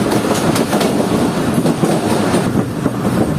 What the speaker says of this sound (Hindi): दोस्तों 2:04 पर हमारी ट्रेन अप्रोच कर रही है झलार रेलवे स्टेशन पर।